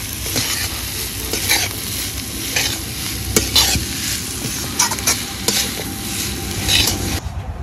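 Banana flower and potatoes frying in a pan, loud continuous sizzling with repeated scraping and clattering strokes of a spatula stirring, close up, with no voices.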